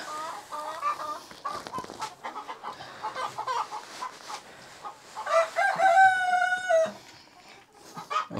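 A rooster crows loudly nearby, drawn out and rising, while laying hens cluck and chatter around it in a backyard farm chicken coop.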